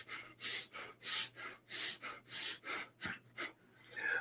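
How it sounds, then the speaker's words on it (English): Breath of fire: a person breathes rapidly in and out through the nose, producing about a dozen sharp, rhythmic, close snorting huffs at roughly two to three per second, with no other sound. "you're going to just use your nose, and for 60 seconds, you're just going to go in and out like 1 or 2 breaths per second"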